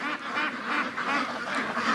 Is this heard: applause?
no